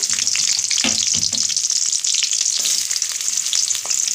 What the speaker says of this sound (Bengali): এবার আমি এর মধ্যে কুচনো পেঁয়াজটা দিয়ে দেবো